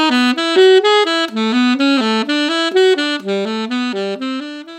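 Jazz scale cell patterns run through the circle of fourths, played as quick, even single notes in short repeating groups that shift key, loud and up close with no voices.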